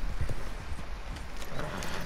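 Horse hooves clip-clop at a walk in the Red Dead Redemption 2 video game, a moderately quiet, uneven series of soft thuds with no talking.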